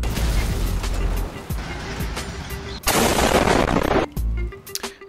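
Gunfire aimed at a car in GTA 5 Online: rapid, loud bursts of shots over game ambience and engine rumble, with a dense, noisy stretch of sustained firing in the middle.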